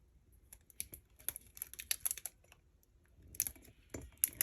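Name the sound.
tape being applied to the sides of a mug sublimation sheet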